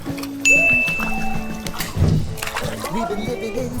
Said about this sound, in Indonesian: Belum lama bel berbunyi, umpan pun langsung disambar.